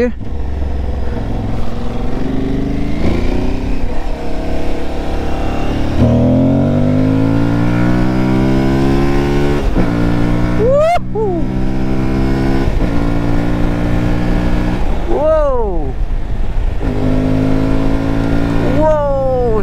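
An Aprilia Tuareg 660 motorcycle engine revs up close and loud, rising in pitch through the gears with a few sharp throttle blips between pulls.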